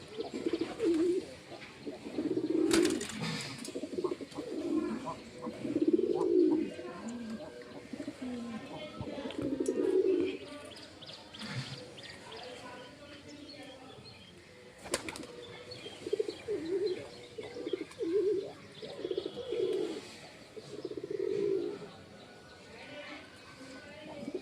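Pigeons, including a newly brought pair, coo in repeated soft low phrases close by, with sudden bursts of flapping wings cutting in now and then.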